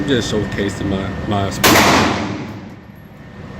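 A single loud pistol shot from a Springfield XD M9 at an indoor range cracks sharply at close range after someone talks, then rings out in a long reverberant decay.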